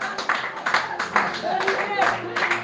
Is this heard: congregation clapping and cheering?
yes